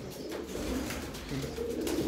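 Low, soft pigeon cooing from a racing pigeon loft, a faint throaty murmur repeating over a couple of seconds.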